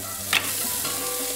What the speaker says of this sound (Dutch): Die giet eerst olie in de pan. En daar giet de knoflook en de siebel in.